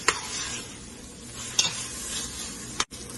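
Tomatoes sauté in a pot for mushroom biryani, giving a close, steady sizzle with a few sharp clinks of a spoon stirring against the pot and no talk.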